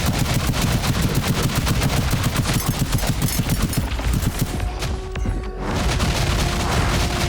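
Dense, continuous gunfire and explosive rocket blasts from the video game Scathe, a loud rapid rattle of shots running throughout with heavy booms layered in and a brief dip before the barrage resumes.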